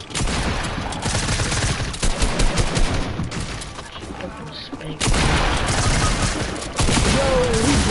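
Gunfire in a duos video game match, loud rapid bursts of shots and booms packed densely over steady background noise, with excited players talking over the action.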